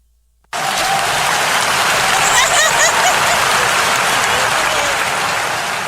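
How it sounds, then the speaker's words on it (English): A soundboard clap effect bursts in abruptly after a moment of silence, a loud, sustained wash of crowd applause that holds steady to the end. "I think that the clap has been done"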